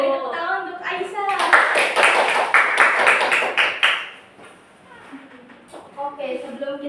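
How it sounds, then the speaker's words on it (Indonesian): Classroom clapping for a pupil named Aisyah during a microteaching lesson, a burst of quick claps lasting about three seconds, with a teacher's and children's voices before and after. "Beri tepuk tangan untuk Aisyah."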